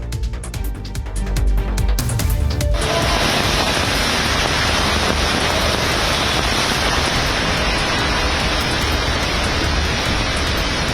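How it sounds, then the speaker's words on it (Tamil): Heavy monsoon rain pours down in Mumbai as a loud, steady broadband roar that starts abruptly after a brief rumbling lead-in and holds constant to the end. "இதன் காரணமாக மும்பையில் நேற்று 2வது நாளாக கனமழை கொட்டி தீர்த்ததால் தாழ்வான இடங்களில் தண்ணீர் சூழ்ந்தது"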